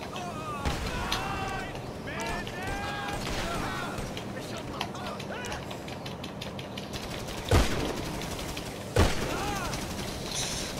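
Gunshots in a survival video game, scattered sharp cracks with two louder bangs near the end, under excited talking from a player.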